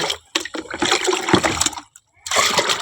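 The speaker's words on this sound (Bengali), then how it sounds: "স্নান করবো টাটকা জলটা তুলে রাখি" Fresh water running into a container to fill a bath in a Bengali home, a broad splashing rush that starts and stops in bursts, with a short quiet gap before it resumes.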